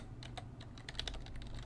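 Code typed on a computer keyboard, a quick run of soft close-up key clicks at an uneven rhythm, no talking.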